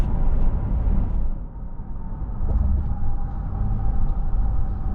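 A 2019 Acura MDX Sport Hybrid's V6 engine hums as a low, steady rumble from inside the cabin while driving, with road noise underneath and no talking.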